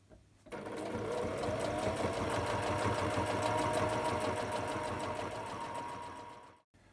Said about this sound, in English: So what I'm doing here is sewing in the channel for the curtain wire to go through